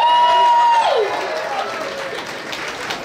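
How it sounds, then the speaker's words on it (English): Crowd applauding filmmakers at an evening event, a steady wash of clapping from many hands that starts right after a loud cheer and holds at moderate level, with a voice briefly heard over the start. "give it up for a round of applause for all the amazing filmmakers here"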